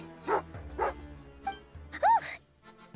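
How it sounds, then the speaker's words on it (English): Tagarin, a dog in the video game Genshin Impact, gives several angry barks and a rising growl-whine, spaced irregularly and close up. "angry doggy"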